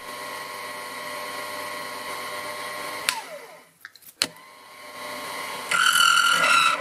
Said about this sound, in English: The end mill sounded very noisy at first